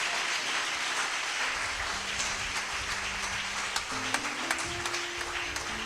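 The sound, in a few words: church congregation applauding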